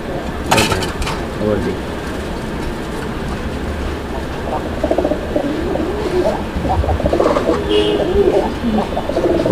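Fancy pigeons for sale cooing in their cages, low repeated coos close by amid general bird noise, with someone talking over them.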